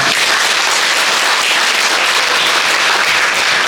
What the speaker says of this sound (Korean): 좋은 강연 해주신 하승수 대표님께 한 번 더 뜨거운 박수 부탁드리겠습니다